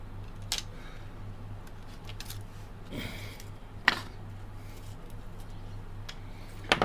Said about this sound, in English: Cut your ribbon off over there.